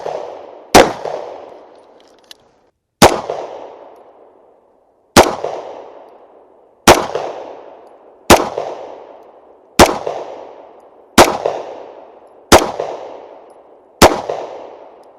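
A Smith & Wesson M&P9 Shield EZ 9mm pistol fires at ice and a can outdoors: nine loud, sharp single shots spaced roughly one and a half to two seconds apart, each followed by a decaying echo, with no talking.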